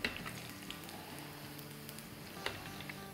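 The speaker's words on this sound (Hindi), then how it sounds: "तो बस अच्छे से फ्राई करेंगे, एक तरफ सुनहरा हो जाएगा तब इसको पलट देंगे।" Phulki batter fritters frying in hot oil until golden, a steady, close crackling sizzle with small pops throughout and no talking.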